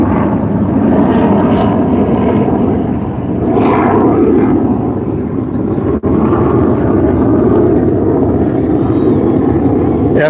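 F-22 fighter jets fly over Waikiki in Hawaii, a loud, continuous jet roar that swells and fades over a beach walk, with people talking underneath.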